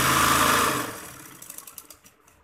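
A sewing machine stitching fabric for a bridal tail maxi, with a loud steady motor whir that fades after about a second, followed by a short series of quick mechanical ticks.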